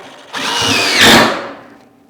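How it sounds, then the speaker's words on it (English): A loud, close impact driver runs a screw, whirring up, surging into a harsher ratcheting buzz for a moment, then winding down and stopping. "My impact kicked in and you heard that ratcheting action"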